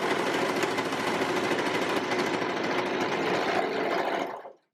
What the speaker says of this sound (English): just trim that off at the end and sew it the rest of the way